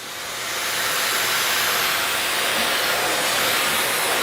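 A Miele Guard M1 Parquet XL vacuum cleaner roars steadily on a lower suction setting, a loud, close, continuous broadband whoosh that swells slightly at the start and then holds even.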